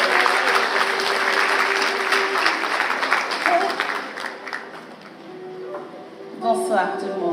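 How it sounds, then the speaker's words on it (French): Sustained audience applause fills a business conference hall, loud and dense at first, then thinning and tapering off, with a brief swell near the end. "On peut applaudir."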